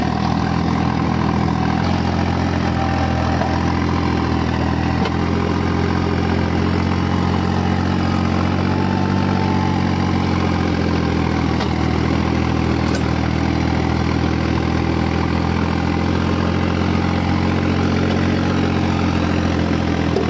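A tractor engine idles at low RPM with a Rotavator implement attached, a steady, loud, continuous low rumble holding unchanged throughout with no voices.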